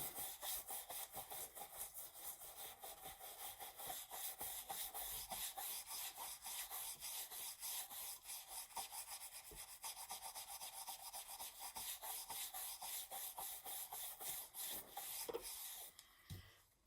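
A brush scrubs an old sword with alcohol, giving a continuous, close, even rasping and rubbing that runs the whole time in quiet surroundings, with a brief pause near the end.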